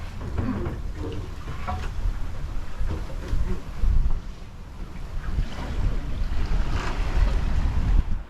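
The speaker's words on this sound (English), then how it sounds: "We have a little bit of wind, so we are going to sail in." A sailboat under way in a breeze, with steady wind buffeting the microphone and water washing and slapping along the hull throughout, loud and continuous with swells of gusts.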